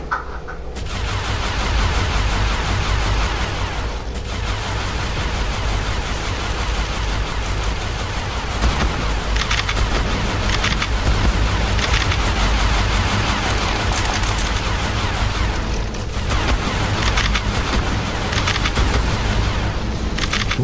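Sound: tech turret gunfire in ARK Survival Evolved video game

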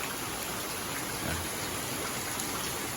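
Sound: rain falling

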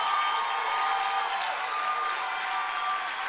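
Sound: audience applause at church service

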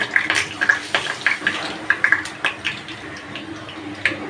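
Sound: pumpkin flower fritters in gram flour batter frying in oil

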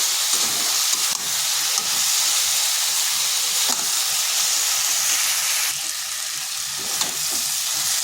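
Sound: sautéing poppy seed, cashew and mustard paste in a pan

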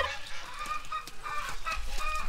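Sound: ducks quacking in barnyard

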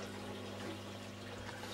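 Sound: marine aquarium sump return pump moving water

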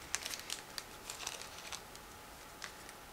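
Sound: opening plastic bag holding clear plastic model sprue

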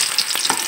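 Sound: peanut pakora frying in hot oil

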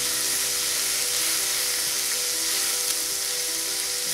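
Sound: chopped garlic and ginger sizzling in a pan

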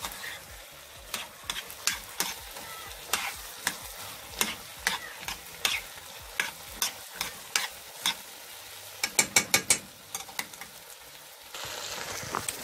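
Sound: vegetables sauteing in a pan

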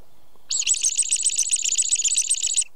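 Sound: songbird stress call imitated with a Vogelklage predator call

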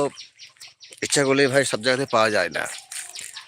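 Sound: birds calling in the village

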